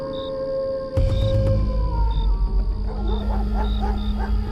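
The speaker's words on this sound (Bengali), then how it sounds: "মাঝে মাঝে শিয়ালের হুক্কা হুয়া কানে আসছে।" Jackals howl at night in a rural Bengal village, a series of rising wavering calls in the mid-distance after a sudden low thump, with a faint high tone lingering in the background.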